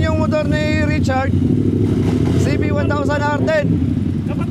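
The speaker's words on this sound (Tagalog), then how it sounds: "Yan yung motor ni Richard," A Honda CB1000R motorcycle engine revs close by, rising and falling in several quick throttle blips over a steady low idle rumble.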